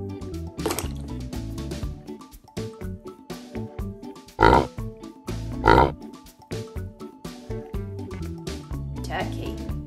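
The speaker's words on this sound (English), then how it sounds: "Pig." A pig grunts and oinks in a farm animal sound demonstration for toddlers, with two louder oinks standing out over continuous background music.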